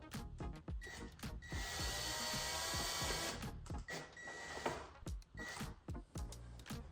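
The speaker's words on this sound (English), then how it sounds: "so what I'm gonna do here is drill the first hole." A steady, high-pitched whine of a small power drill boring into a plastic Ski-Doo hood runs for about two seconds, surrounded by clicks and knocks of handling plastic, with no talking.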